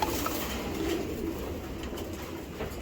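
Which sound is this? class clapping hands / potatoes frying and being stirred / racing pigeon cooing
racing pigeon cooing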